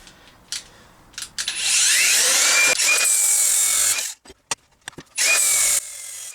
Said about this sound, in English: Had to take a little bit of care whilst quickly grinding down this weld